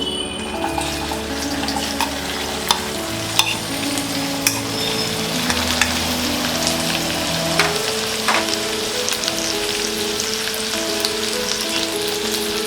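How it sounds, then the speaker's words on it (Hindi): Okra sizzles steadily in hot oil in a home kitchen, a continuous, fairly loud frying hiss with a few sharp crackles and pops and no talking. "तेल गरम हो गया है। अब हम इसमें डालेंगे ये भिंडी,"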